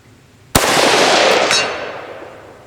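Sniper rifle shot striking a red steel target plate, a single sharp loud crack followed by a long ringing, rolling tail that fades over two seconds, heard alone.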